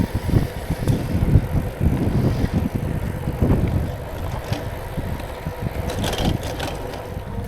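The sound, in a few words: folding bicycle riding fast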